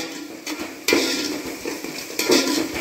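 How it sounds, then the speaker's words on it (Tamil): Onion, mustard seeds, fenugreek, green chili and garlic sautéing in a pan, with a scrape of a spoon stirring and knocking against the metal, a soft sizzle running underneath, close and fairly steady. "இதெல்லாம் போட்டு அது கூட கொஞ்சம் கருவேப்பிலை இதை போட்டு நல்லா பொன்னிறமாக வதக்கிக்கிங்க"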